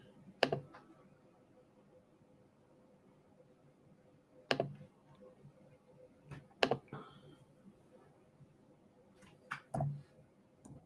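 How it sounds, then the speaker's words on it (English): Slow, sparse pecking at a computer keyboard at night: isolated sharp clicks and short bursts of keystrokes separated by long quiet gaps, close and fairly soft. "You can hear me pecking at the keyboard."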